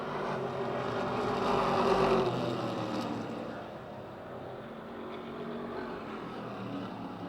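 Race cars circle an oval speedway, a distant engine roar that swells as cars pass and then settles to a fainter, steady drone, with no talk over it.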